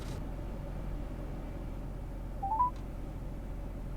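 Telephone number being dialed on a keypad, three short rising touch-tone beeps in quick succession around the middle, faint over a steady background hiss.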